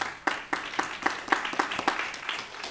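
Scattered applause from a small seminar audience in a lecture room, a handful of distinct claps in an irregular rhythm, close and fairly quiet, with no talking.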